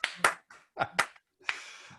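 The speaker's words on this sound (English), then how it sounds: "Give Mitch Jorsky a round of applause" Scattered hand claps from a small audience greeting a speaker at a motivational wealth talk, arriving in a few separate bursts with short gaps between them.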